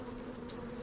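Dense, steady buzzing of many bees inside a beehive, picked up by a microphone placed close to the colony, loud and continuous for under a second.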